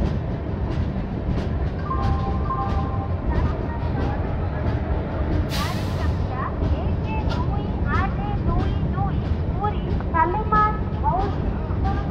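A Dhauli Superfast Express train rolls into Khurda Road station, its wheels clattering rhythmically over the rail joints, with squeals and metallic clicks, a brief hiss and a constant loud rumble throughout.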